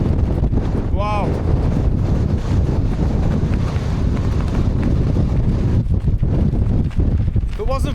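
Strong wind buffets the microphone on the Gray Crag summit, a loud continuous roar with gusty surges throughout and a brief voice rising through it.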